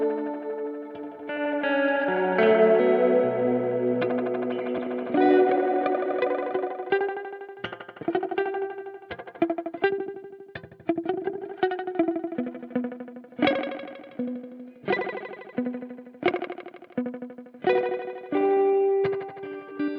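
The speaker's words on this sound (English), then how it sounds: "this is basically a tape echo emulation" Tape echo emulation from an Erica Synths Echolocator delay pedal, with played synth notes smeared into repeating, chorus-like echoes that swell and decay, steady and loud at first, then breaking into rhythmic plucked bursts.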